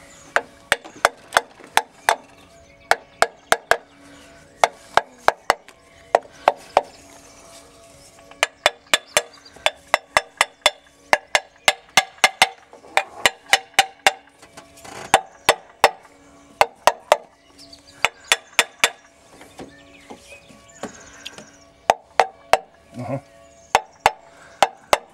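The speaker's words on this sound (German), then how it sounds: "Habe ich Gummihammer auch." Sharp, repeated rubber mallet blows land in irregular bursts and clusters during a moped engine repair, fairly close, with a woody, knocking quality and only quiet background between hits.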